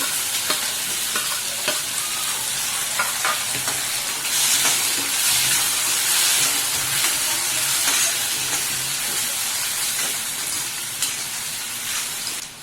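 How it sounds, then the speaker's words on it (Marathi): Tomato sautés with onion in a hot pan for a dried javala shrimp dish, giving a continuous close sizzle and hiss with frequent clinks and scrapes of a stirring spoon. "आता टोमॅटो परतून घेऊया"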